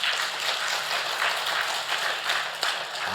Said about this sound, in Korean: 이 양반들 보고 박수 한번 주시죠